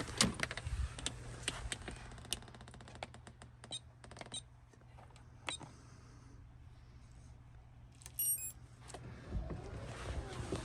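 The pop-top roof of a truck camper, parked at a suburban family home, is pushed up by hand. Scattered creaks, clicks and knocks sound close by over a low steady hum.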